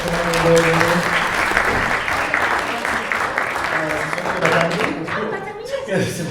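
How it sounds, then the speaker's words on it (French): An audience at a gaming-convention conference with dubbing voice actors bursts into applause, steady clapping throughout with voices and some laughter mixed in underneath. "On peut les applaudir s'il vous plaît."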